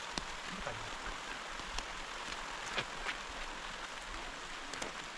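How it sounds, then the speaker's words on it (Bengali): Steady rain falling outdoors during tree planting, a dense even patter with scattered sharper drop hits throughout, and no voices. "পরিমাণে বৃষ্টি হচ্ছে"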